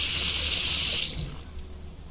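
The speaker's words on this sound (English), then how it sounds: "Put some water in there." Water pours into a pot in a cooking simulator game, a steady bright hiss for about a second before it stops and a quiet room tone is left.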